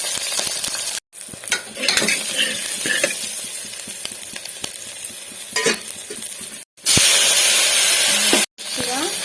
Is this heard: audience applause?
no